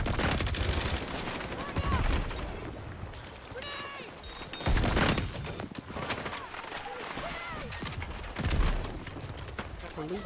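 Bursts of gunfire in the space sim video game Star Citizen, repeated loud volleys over a busy background, with voices talking throughout.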